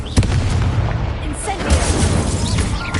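A Confringo blasting-spell explosion in a video game bursts out as a dense, booming roar amid the clamour of a spell duel, with a voice mixed into the loud battle noise.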